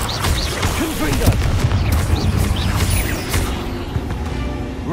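Confringo fire spells blasting again and again in Hogwarts Legacy, loud booming bursts and crackles packed over continuous game noise, with a voice calling out over the fighting.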